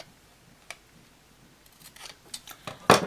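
Scissors cutting cardboard for a tiny shoe box, a few quiet snips and ticks building to a sharper, louder crunching cut at the end, close up with no voices.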